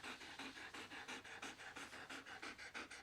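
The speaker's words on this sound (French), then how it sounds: "Tu as entendu, j'ai un chien." A dog pants close by in quick, even, rhythmic breaths, about a dozen in a row, alone with no talking over it.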